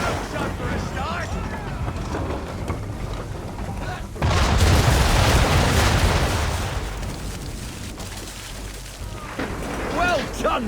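Ship cannons firing round shot broadside in Assassin's Creed 3, a sudden heavy boom that swells into a long rumbling roar over sea and wind, with voices talking before and after.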